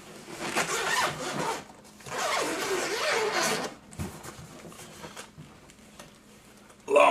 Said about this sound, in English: Long zipper.